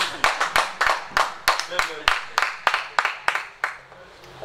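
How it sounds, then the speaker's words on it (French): Rhythmic hand clapping from a group, roughly a dozen sharp, evenly spaced claps at moderate volume, with faint talk underneath that fades out by the end. "Non, il faut nous applaudir."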